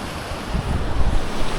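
Stream water gushes in a continuous, loud, rushing roar along a mountain trail in the Kinsman Mountains in winter. Low, turbulent churning and steady broadband wash fill the scene, with no voices over it.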